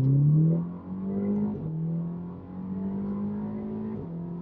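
A Volkswagen Golf R engine pulls hard under acceleration, a steady droning rise in engine note heard from inside the car, moderately loud and continuous, with a slight dip as it shifts before climbing again.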